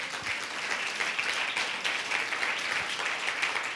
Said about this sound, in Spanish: Dele fuerte un aplauso a Jesucristo.